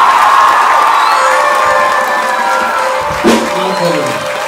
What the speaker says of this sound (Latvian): Un tagad tādi forši, skaļi, brīnišķīgi aplausi mūsu mazai raganiņai Elīnai!